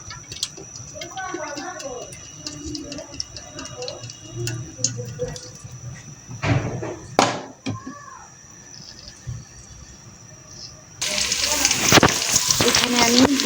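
Onion, green chili and cinnamon hit hot oil in a cooking pot, giving a soft crackling sizzle punctuated by clinks and scraping stirs, then a much louder burst of hissing frying near the end.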